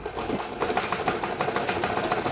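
Sewing machine stitching along a marked line on a frock suit pocket, a fast steady run of needle strokes, close and fairly loud, with no talking.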